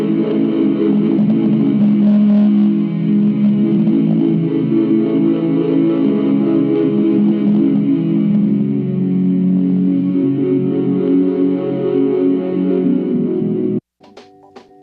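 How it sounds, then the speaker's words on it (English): A washy synth pad with effects, distortion and chorus forms a dense, sustained wall of sound filling the space under a song, steady and loud for about fourteen seconds before cutting off abruptly. "got a washy synth underneath it."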